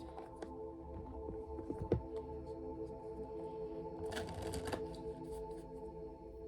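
Moonology oracle cards riffle and slap as the deck is shuffled and a card is pulled, a quiet run of crisp taps with a denser flurry of shuffling near the end, alone without talk.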